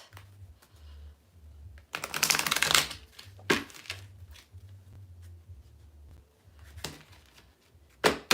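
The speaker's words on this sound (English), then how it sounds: "I'm going to shuffle these and see what else we get" Tarot-style cards being shuffled by hand indoors, with a few close bursts of riffling and flicking separated by quiet pauses and a low background hum.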